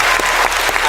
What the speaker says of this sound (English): And can they both have a round of applause for that